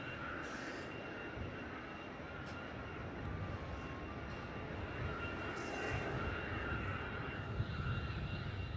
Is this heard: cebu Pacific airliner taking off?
yes